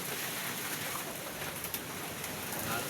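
Heavy typhoon rain pours down in a steady, dense hiss of falling water that lasts the whole stretch, with no voices.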